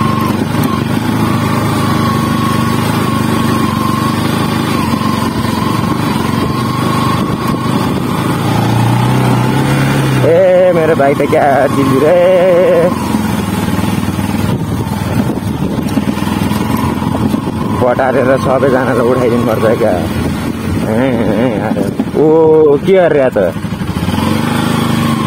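A motorcycle engine drones steadily throughout a muddy off-road ride, its note shifting slightly with throttle, while several people talk loudly over it.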